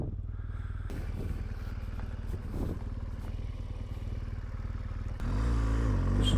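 An adventure motorcycle idles in the shade on a sandy Australian outback track, a low steady engine throb with some clatter, joined by a louder, rougher engine rumble close by near the end.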